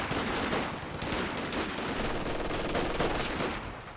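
Dense machine gun fire from a Company of Heroes 2 battle, rapid overlapping bursts and rattling shots at loud, steady intensity throughout.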